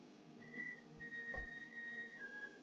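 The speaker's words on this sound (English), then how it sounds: "Get a tiny little whistle out of it." A tiny blown-glass bubble whistles as air is blown through it at a glassblowing bench, giving thin, steady high tones in several short stretches that shift slightly in pitch over a low background hum.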